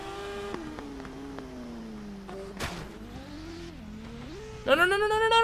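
In the TT Isle of Man motorcycle racing video game, a motorcycle engine drones and shifts pitch steadily, then roars up into a loud, high rev near the end.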